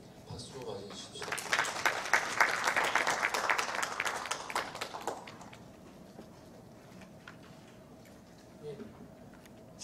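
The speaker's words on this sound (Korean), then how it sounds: "박수로 맞이해 주십시오." Applause from a crowd at a community forum on village life and social economy rises quickly, swells for a few seconds, then fades into scattered claps and quiet room tone.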